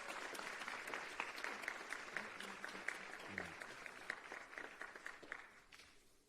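A seated audience at a learner-leadership summit claps steadily for the president of KwaZulu-Natal, a moderately distant patter of many hands that holds for several seconds and then fades.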